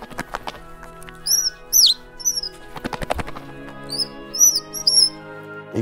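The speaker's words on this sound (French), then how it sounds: "On entendait des petits oiseaux." Small birds chirping, with quick high tweets coming in scattered bursts over a quiet background, no talking.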